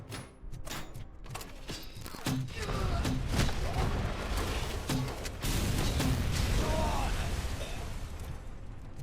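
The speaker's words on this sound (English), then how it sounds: "the thump of a grenade launcher deploying a grenade" Repeated heavy thumps and pops from a grenade launcher in the video game Robocop: Rogue City, with echoing bursts layered over dense game noise and some chatter underneath.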